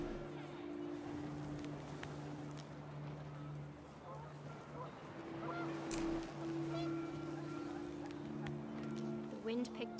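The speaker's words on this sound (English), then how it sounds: "The wind picked up, and panicked geese appeared and quickly went." Geese honk in panicked bursts as wind gusts sweep past in the video game What Remains of Edith Finch, the calls scattered over a steady windy bed while a voice narrates throughout.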